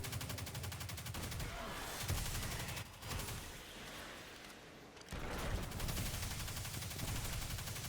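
Enemies in Destiny 2 open fire in rapid, sustained volleys, a dense crackle of shots that dips briefly before resuming at full strength, moderately distant.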